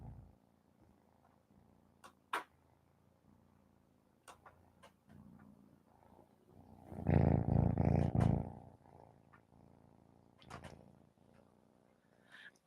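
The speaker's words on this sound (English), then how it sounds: "Can y'all hear him purring?" Soft low rumbling purr from a nearby cat, swelling loudly for a second or two in the middle, with scattered taps and rustles around it.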